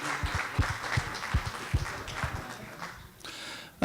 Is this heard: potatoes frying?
no